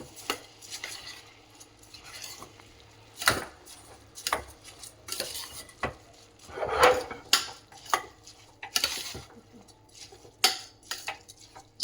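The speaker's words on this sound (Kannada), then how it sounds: "ಚೆನ್ನಾಗಿ ಮಿಕ್ಸ್ ಮಾಡಿ" Tomato rice being mixed in a pan, with uncooked rice, either basmati or sona masuri, turned through the tomato mixture: a spoon scrapes and clinks against metal in irregular bursts, fairly faint, with a few louder knocks.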